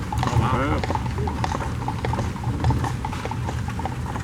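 A horse-drawn carriage on Duke of Gloucester Street in Williamsburg goes by, hooves clip-clopping at a steady trot alongside rattling wheels, close and loud beneath someone speaking.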